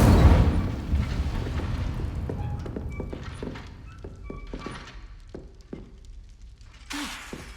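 An Incendio fire spell cast in Hogwarts Legacy, a loud deep whooshing burst at the start that fades into crackling thuds and scattered impacts, with a final brighter burst near the end.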